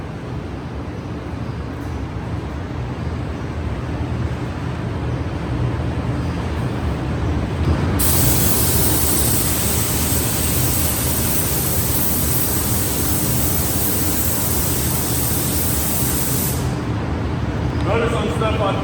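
A spray gun paints a Peterbilt truck in a collision repair shop: a loud, steady hiss runs for several seconds over constant broadband booth noise, then cuts off.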